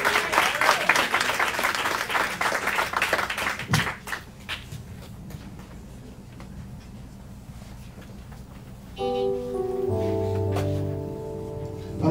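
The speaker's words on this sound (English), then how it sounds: "Let's give them a round of applause as they come." A church congregation applauds deacons and deaconesses arriving for devotions. The applause is loud and dense for about four seconds, then dies away into a quiet room, and soft sustained musical tones come in near the end.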